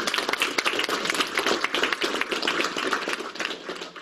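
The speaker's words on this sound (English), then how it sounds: "a big round of applause" A school class gives a guest speaker a big round of applause, with many hands clapping densely and steadily at close range.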